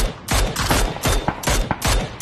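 Bursts of rapid gunfire in a video game shootout, four loud sharp volleys of about a quarter second each, separated by short gaps, with no talk.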